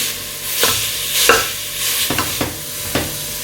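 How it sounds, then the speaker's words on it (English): Minced beef fries in a pot with a loud, close sizzle, broken up by repeated scraping knocks as a spoon stirs and separates the meat, and no one speaks. "I'm going to add my beef into the pot, and I'm going to use my spoon and just separate everything until it turns brown"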